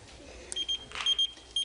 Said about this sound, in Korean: 저 삐삐가 와서 그런데요